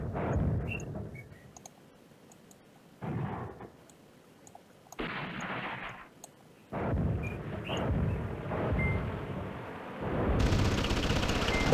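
Anti-aircraft fire in the wargame Command Ops 2, heard as bursts of rumbling, crackling gunfire that come and go in several separate volleys, with a steadier barrage building toward the end.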